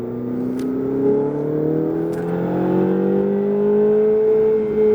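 Ferrari engine accelerating on a track at Issoire, a loud, smooth rising drone as the revs climb steadily over several seconds, with a couple of faint clicks and no voices.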